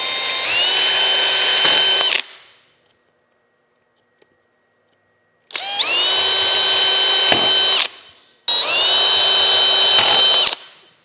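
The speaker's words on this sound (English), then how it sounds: "I'm gonna go ahead and drill the rest of the holes in here." A power drill bores screw holes in a wooden drum pattern in three loud, close bursts of high whirring, each a couple of seconds long, separated by a silent pause and a short gap.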